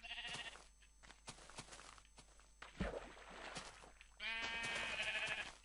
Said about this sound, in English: Oh, and heaven behold, these three sheep.